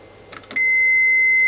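A continuity tester's buzzer sounds on a terminal of a Korad KA3305D bench power supply under repair, a single sharp, loud tone that starts abruptly after a couple of faint clicks and holds steadily to the end.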